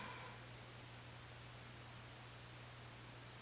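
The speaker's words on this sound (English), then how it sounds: "tell you the story behind that beeping noise" High electronic beeps in pairs, repeating about once a second over a low steady hum, fairly faint.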